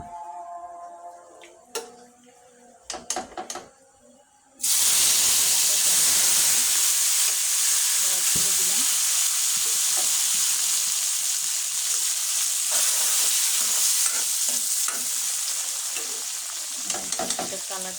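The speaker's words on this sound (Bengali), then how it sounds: "এখন আমি সবজিটা তেল দিয়ে দিব।" Vegetables hitting hot oil, a few clinks and knocks, then a sudden loud, dense sizzle and hiss that holds steady and close to the end.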